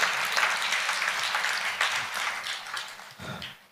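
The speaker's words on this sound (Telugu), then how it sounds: "చప్పట్లు కూడా దేవుని మహిమపరుస్తారా?" A church congregation claps together in steady, dense applause during a sermon, holding fairly loud throughout and tapering slightly near the end, with no talk over it.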